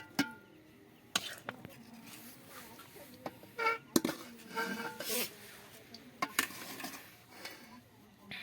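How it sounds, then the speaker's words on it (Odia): Sharp, irregular knife chops as chicken meat is cut into large pieces for chicken biryani, the strikes landing close and crisp at uneven intervals over a low background murmur, with a faint voice now and then. "ମାଂସ ଗୁରା ବଡ଼ ବଡ଼ ଖଣ୍ଡ କରିଦେଲା।"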